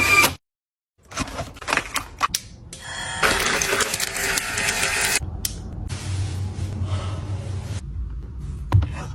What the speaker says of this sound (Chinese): 正在为您打印。